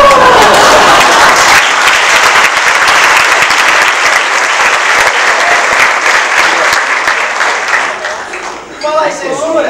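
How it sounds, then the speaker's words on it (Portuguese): A theatre audience at a stage show gives a loud, sustained round of applause. The clapping stays dense for most of the stretch, then thins out as a voice starts talking near the end. "Palmas pro seu censor!"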